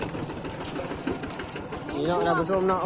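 A tractor engine chugs and knocks steadily at close range while someone talks over it.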